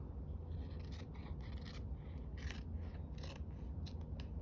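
Scissors cut through craft material at close range in a quick run of repeated snips and rasping strokes, with no talking.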